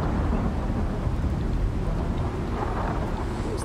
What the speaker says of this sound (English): As the storm goes past.